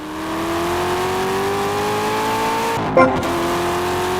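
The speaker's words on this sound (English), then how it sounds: "Let's move on to the good old V8 engine." Chevrolet LS 6.2-liter V8 in Forza Horizon 5 revving steadily upward, a loud continuous engine drone whose pitch climbs before a brief shift-like dip near the end, with no talking.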